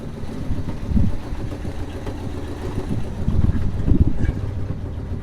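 A 1968 Cadillac engine idles with a steady low rumble, close and moderately loud. It swells slightly a couple of times, with no talking over it.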